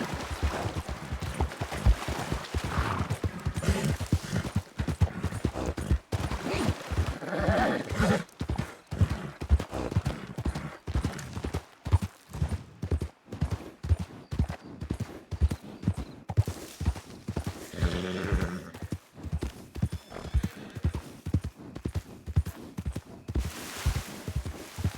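A horse in a Western roleplay game trots with steady, dense clip-clop hoofbeats for a long stretch, broken by a few whinnies, with occasional talk faintly underneath.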